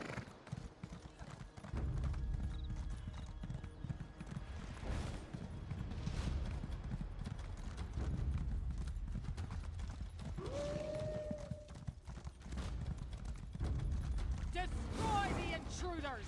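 Horse hooves galloping in The Elder Scrolls Online, a steady clip-clop rhythm running for several seconds with a whinny and occasional creaks, alongside brief game voices.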